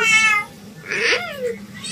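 A cat lets out one short meow that rises and falls, fairly close, over a quiet household background with no talking.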